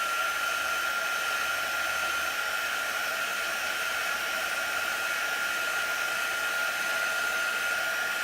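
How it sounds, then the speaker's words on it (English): Hair dryer blowing steadily on a chalk transfer for crafting, a constant loud whooshing whir that runs unbroken throughout with no talking. "I don't want my hairdryer to accidentally touch the transfer."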